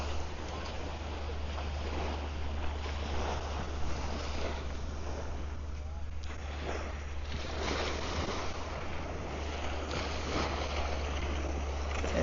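Ocean waves wash steadily onto Phuket's Laguna Beach in Thailand, a continuous broad surf roar with heavy wind buffeting the microphone throughout.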